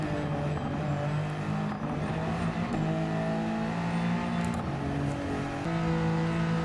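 A Peugeot 2008 SUV with a three-cylinder engine in Gran Turismo 7 drones steadily and loudly throughout, its pitch stepping between held tones as the revs shift, with no voices.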